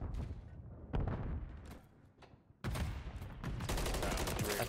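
Gunfire bursts and a grenade blast from an online multiplayer shooter match, with sharp, loud broadband volleys at about one and two-seventy seconds in and sustained rattling fire to the end.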